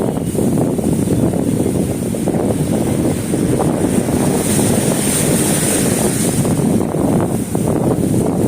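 Waves surge and wash continuously along the Manila Bay shore, with heavy wind buffeting the microphone throughout.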